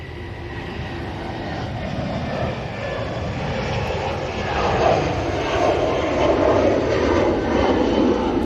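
A departing airliner bound for Vienna from Manchester Airport roars steadily, its broad jet rumble swelling louder midway as it passes close, continuous and without voices.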